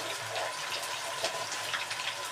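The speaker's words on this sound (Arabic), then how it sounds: "عندي شويه مواعين بقى ايه، اغسل فيهم بسرعه كده" Tap water runs steadily into a sink while dishes are washed in a home kitchen, a continuous hissing splash with faint clinks, at moderate level and with no talking.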